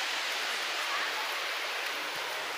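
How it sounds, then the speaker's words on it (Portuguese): The Vargem do Salto waterfall in Ibiúna, São Paulo, gives off a steady, even rush of falling water, a hissing broadband roar that stays constant throughout with no other sounds standing out. "Vou mostrar um pouquinho da cachoeira lá atrás pra vocês"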